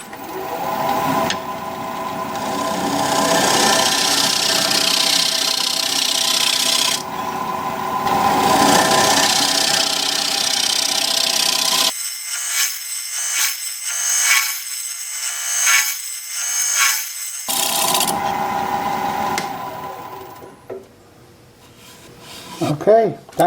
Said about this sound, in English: I'm going to put a fresh edge on my scraper and we'll scrape.